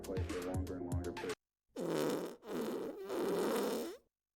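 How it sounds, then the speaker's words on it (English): Random fart sound effects triggered by a stream chat command, several loud, close, blaring bursts in a row after a short musical jingle, separated by brief gaps. "the exclamation mark fart command gives you a random fart sound effect"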